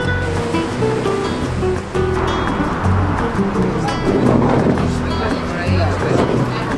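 Ocean surf rolling onto a city beach in Bilbao in the Basque Country, a loud continuous wash of breaking waves with muffled voices and bustle underneath.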